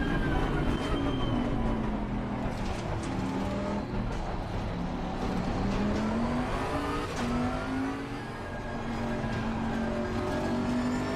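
Bentley GT3 race car engine in the Assetto Corsa Competizione video game at Monza, a loud close onboard drone that swells and drops as the car accelerates and shifts through corners behind another Bentley in traffic.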